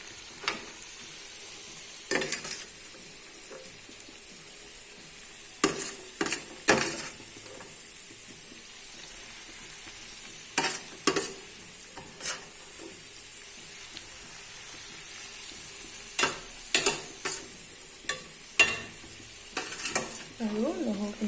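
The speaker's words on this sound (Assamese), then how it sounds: "মই আমলখিখিনি অলপ লৰাই দিছোঁ" Amla (Indian gooseberries) fry in a pan for a sweet and spicy pickle while a spoon stirs them, the faint sizzle broken by repeated sharp scraping and clattering strokes against the pan.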